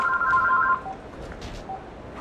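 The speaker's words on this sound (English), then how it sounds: "Let me shut this phone off" A phone at a busy trade-show booth sounds a quick run of short dual-tone beeps as it is shut off, then crowd murmur and background chatter take over.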